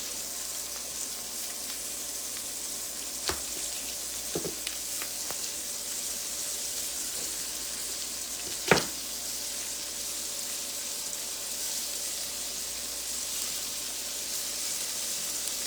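Steak sizzles steadily in a pan with a pat of grass-fed butter, a continuous close hiss with a few soft clicks and one brief clunk of a utensil partway through.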